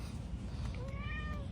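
A cat meows once, close by, a short drawn-out call over a low, steady background rumble.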